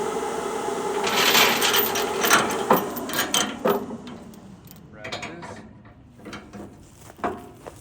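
A ratchet load binder is cranked to tighten a chain while loading a skid steer, giving a close series of clicking ratchet strokes that slow and fade toward the end.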